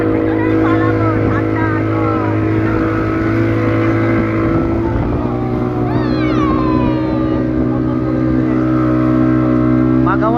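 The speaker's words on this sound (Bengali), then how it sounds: "আমাদের বোট স্টার্ট হয়ে গেছে" A motorboat engine drones steadily and loud throughout as the boat heads out on the sea, with a constant low hum, swashing water and wind, and faint voices in the background.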